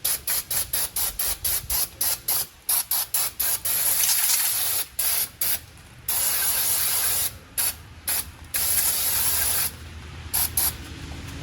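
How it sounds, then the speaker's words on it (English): Brake cleaner sprays from an aerosol can onto the parking brake drum parts of a Chevrolet Colorado or GMC Canyon. It comes as loud, close hissing bursts, first short rapid pulses, then longer sustained sprays with brief pauses between them. "begin spraying and cleaning all the brake dust and grime off those parts."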